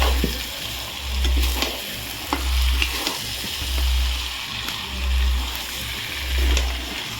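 Mutton curry is stirred in a pan, with soft sizzling and wet scraping that rise and fall in regular swells, close and moderately loud.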